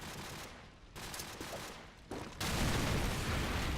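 Gunfire in a Call of Duty 4 Pro Mod match, heard as continuous bursts of shots and impacts that grow louder and denser toward the end.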